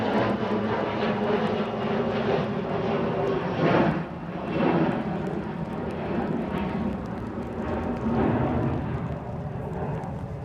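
A KLM Embraer E175 jet departing Manchester Airport for Amsterdam gives off a loud, rumbling engine roar with a couple of swelling surges midway, then settles into a steady drone. No one speaks.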